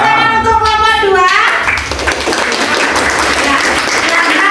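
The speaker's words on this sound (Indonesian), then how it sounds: "Tepuk tangan untuk kelompok 2." A classroom group receives a burst of applause, clapping from many students rising sharply after a moment of talk and holding steady and loud to the end.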